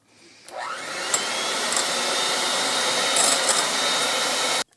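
An electric mixer whips egg whites to hard peaks for French pancakes, its loud, steady whirring motor starting after a brief pause, running continuously for about four seconds, then cutting off abruptly, with no talking.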